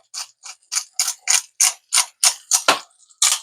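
A worn, beat-up pepper grinder cracks black pepper in a kitchen, giving about a dozen crisp ratcheting crunches in a steady rhythm, close and clear with no talk.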